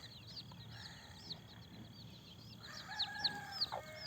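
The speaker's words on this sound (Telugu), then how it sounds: "భీమవరం జాతి కోడి ఇది." A Bhimavaram breed hen with eight chicks makes soft, repeated clucks, while high, thin peeping calls chirp steadily throughout, fairly faint against a quiet background.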